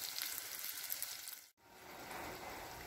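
Savory beignets with onions and spices fry in hot oil, a continuous close crackling sizzle broken by a brief gap, as if the pieces are being turned.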